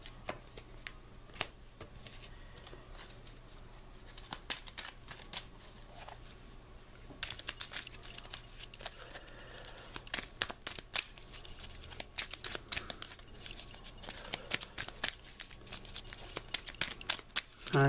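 Playing cards from the Marvel Champions card game being shuffled into a deck, with soft crinkly riffles and flicks coming in close, quiet bursts that grow busier halfway through, with no talking.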